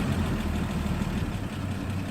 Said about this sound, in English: And this 79 Land Cruiser FJ40 is ready to idle.